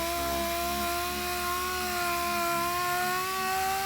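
A power sander runs continuously with a steady whine and rasping grind against a Saturn Sky SMC composite fender under crack repair, close and unbroken throughout.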